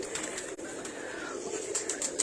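Racing pigeons from a champion's tournament loft coo softly and steadily in a continuous murmur with a few brighter calls near the end, moderately close and with no talk.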